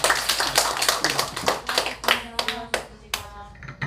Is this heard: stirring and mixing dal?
no